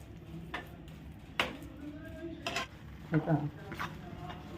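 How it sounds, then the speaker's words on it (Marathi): Mung dal puran is stirred and roasted in a pan, with a scattered series of spoon scrapes and clinks against the metal over a low background hum. "आपलं पुरण असं परतत आहे या पॅनमध्ये खाली लागत नाही"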